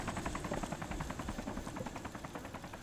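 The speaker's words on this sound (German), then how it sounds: "Der Heli kommt genau auf uns zu" A helicopter approaching in the survival game DayZ, its rotor chopping in a steady fast rhythm that stays loud and continuous throughout.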